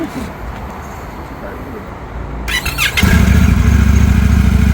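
An Indian Scout motorcycle engine starts up after a stretch of quiet background noise, turning over and catching into a loud, steady idle that rumbles on to the end.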